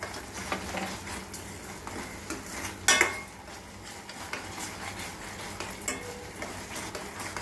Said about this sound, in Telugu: ఇలా నెయ్యి కొంచెం వేసుకుంటూ ఇలా తిప్పుతూ ఉండాలి